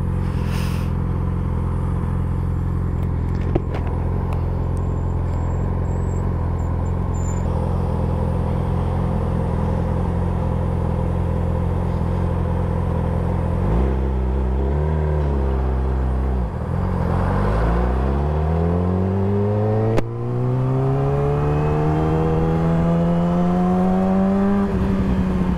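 A motorcycle engine idles with a steady low rumble, then revs up sharply several times after slipping into a false neutral, its pitch climbing in rising sweeps before easing back.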